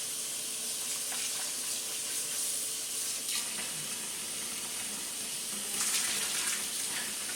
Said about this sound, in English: we have to put water in them just till they seem like they're floating a little